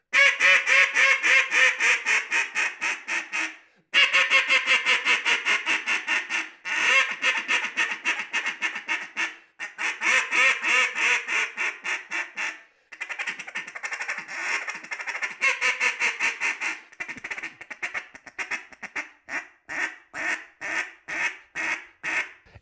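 Power Calls Impact molded duck call blown in repeated series of loud, raspy quacks, rhythmic bursts with short pauses between sequences, alone and close up.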